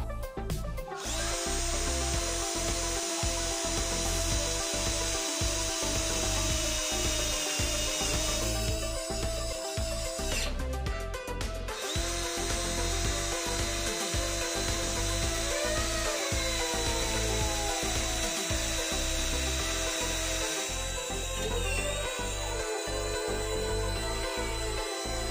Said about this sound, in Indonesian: Saya akan coba ngebaut roofing ya, ini baut roofing untuk baja ringan atau untuk besi.